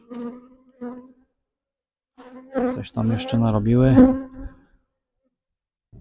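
Honeybees buzz around an open hive frame during an apiary inspection, with bursts of buzzing coming and going between pauses while someone talks nearby.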